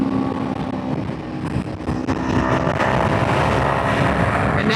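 Motorcycle engine pulling hard after clutchless upshifts into fifth and sixth gear, a loud continuous roar mixed with heavy wind rush at speed, building slightly toward the end.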